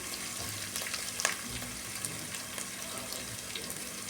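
Onions and curry leaves sauté in a pan for beetroot rice, a soft, steady sizzle with occasional light stirring scrapes and clinks, fairly quiet and close, no talking.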